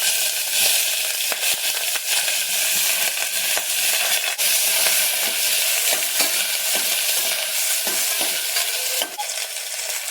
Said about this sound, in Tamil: அந்த பெருவெங்காயமும் கருவேப்பிலையும் போட்டுக்கலாம்.